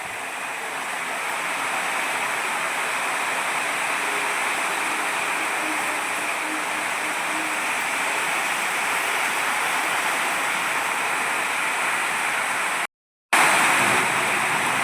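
Heavy rain pours steadily outside in a village during a thunderstorm, a loud, dense broadband wash that holds for the whole stretch, broken only by a brief dropout near the end.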